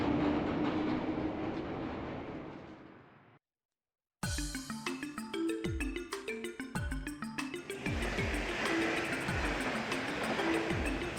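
A train in motion in the video game Trails From Zero: after a brief silent gap, its wheels beat out a steady, rhythmic clickety-clack over a continuous rolling rumble, close and fairly loud.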